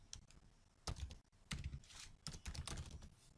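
Quiet, close typing on a computer keyboard, with bursts of rapid key clicks separated by short pauses and an occasional heavier thunk, no speech.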